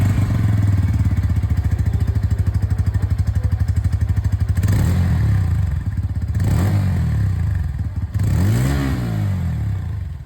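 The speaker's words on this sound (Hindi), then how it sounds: "N150 में अगर आप आते हैं दोस्तों तो यहाँ पर भी आप लोगों को अंडरव्हील एग्जॉस्ट मिल रहा है। बाकी इसकी भी आवाज़ आप लोग सुन लीजिए।" Bajaj Pulsar N150 motorcycle with an underbelly exhaust idling with a steady throbbing beat, then revved in three quick throttle blips that rise and fall, loud and close.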